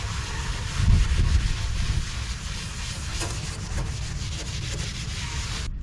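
Steady abrasive scrubbing on metal, lifting surface rust from a patina finish with a soapy wash, heard as continuous close rubbing with a louder burst near the start.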